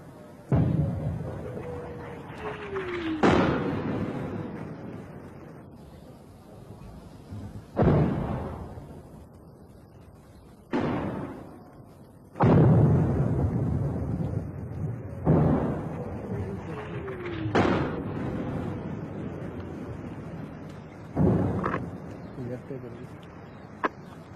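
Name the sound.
artillery guns firing in a war film scene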